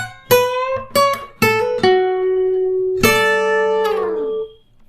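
A blues guitar lick played slowly and clearly on a solo guitar, with several plucked notes and bends, then a longer sustained note that rings out before stopping.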